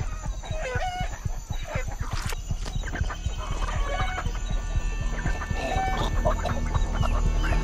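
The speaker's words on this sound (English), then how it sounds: "给你一只活鸡，你吃不吃？" A live chicken clucks steadily and close by, with busy overlapping fowl calls and rough, rhythmic clucks running throughout.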